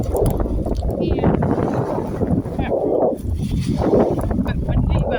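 Wind at a lake front beach rumbles steadily against the microphone, a constant loud rush with a person talking through it.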